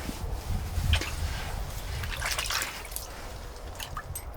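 A small panfish is dropped back through the hole in an ice fishing hut, giving a near splash and a few drips and trickles of water, fairly quiet.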